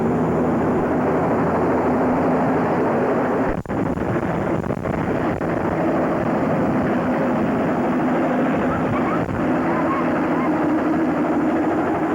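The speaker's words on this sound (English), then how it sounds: "Helicopter should be touching down any moment now." Loud, constant whirring drone of a helicopter landing close by, steady and heavy throughout, with voices faintly audible beneath the engine noise.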